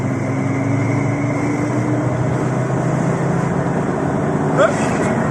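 A turbocharged Audi A3 with a 180 hp engine drones steadily at high revs in second gear. The engine is loud and continuous throughout, with a faint whistling rise near the end.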